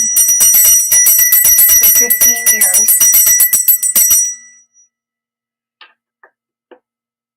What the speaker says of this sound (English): I ring my dinner bell that was rung